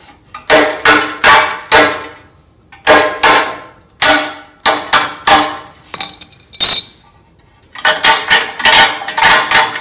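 Repeated hard clanging of a hammer striking metal on a lawn mower, bursts of several rapid ringing blows separated by short pauses, loud and close with no talking.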